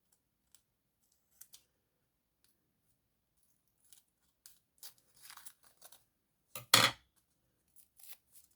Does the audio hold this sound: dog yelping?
no